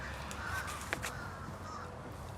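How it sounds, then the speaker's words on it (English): A few crow caws ring out outdoors, a couple of short calls followed by a sharper one near the middle, moderately distant against quiet background ambience. "They're not talking, they're crowing or whatever, cawing."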